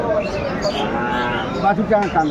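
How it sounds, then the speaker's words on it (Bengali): Dairy cows and calves of an improved milking breed lowing at a busy rural cattle market in Dinajpur, Bangladesh, a moderately close moo sustained over steady crowd noise and voices. "গাভী বাছুর আমরা দেখছি"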